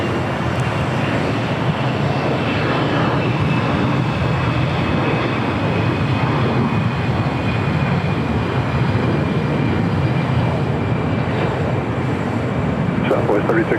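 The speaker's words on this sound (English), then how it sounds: "Ichabod, the whooping crane livery heading to Phoenix, Arizona in an A320 Neo." Frontier Airlines Airbus A320neo in whooping crane livery taking off at LAX, a steady, loud broadband engine roar that holds evenly throughout, with faint voices talking underneath.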